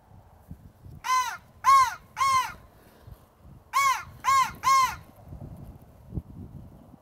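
A person imitates a crow's caw out in the open to draw in hawks: two loud, close sets of three harsh caws, separated by a pause, over faint background rustle.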